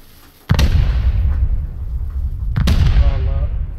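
Satchel charges exploding in the video game Rust: two heavy, booming blasts roughly two seconds apart, each a sharp crack followed by a long rumbling decay, loud and close with no talking.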